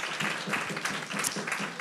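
Audience applause at a community session, a steady wash of clapping from a room full of people that stays even and moderately loud for its whole length, with no one speaking over it.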